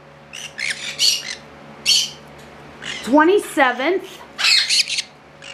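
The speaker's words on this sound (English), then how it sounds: "Here we have 8 green cheek conures" Eight hand-fed green cheek conure chicks squawk in a handful of loud, harsh bursts, with shrill chirps scattered around them and a person talking softly in between.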